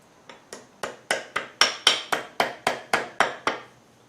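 A hammer strikes a wedge into the head end of a double bit axe handle, about a dozen sharp, close blows in a steady rhythm with rising force, no talking.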